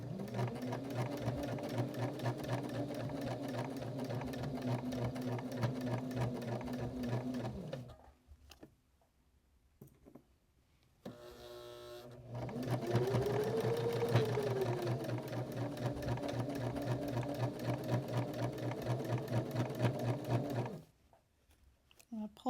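Sewing machine stitches straight down the fabric edge of an upcycled shirt in two long steady runs, a fast even mechanical whir with a brief pause between and a quiet gap near the end.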